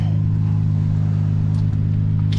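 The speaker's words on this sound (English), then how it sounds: "So guys, we're backing down the boat ramp" Car backing slowly down a boat ramp toward water, a steady low idling engine hum close by with little change, faint crunch near the end.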